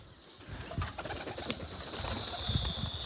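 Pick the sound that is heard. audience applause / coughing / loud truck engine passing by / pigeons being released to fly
pigeons being released to fly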